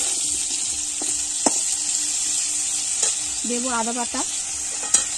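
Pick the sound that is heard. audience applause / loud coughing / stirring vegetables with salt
stirring vegetables with salt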